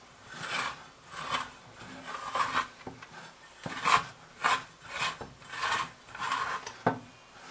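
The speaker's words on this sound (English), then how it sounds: "now you can scrape up the sides really nicely" Dough is scraped off the sides of a bowl during bulk fermentation, giving close, soft rasping strokes that come in a steady rhythm of about a dozen separate scrapes, with no one speaking.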